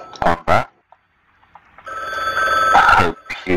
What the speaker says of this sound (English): I hope you enjoy your sounding phone because time to pick it up